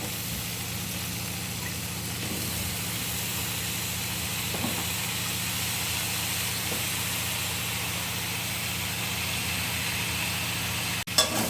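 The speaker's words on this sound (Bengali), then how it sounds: "ডাঁটা আলুটা ভালো করে কষিয়ে নিই।" Potato pieces and vegetable stalks sauté in a pan with a steady, even hiss that holds at one level throughout, no voices and a brief knock near the end.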